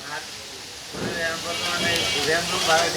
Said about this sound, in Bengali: আজকে চিকেন ফ্রাই এগুলা ফ্রাই করা হচ্ছে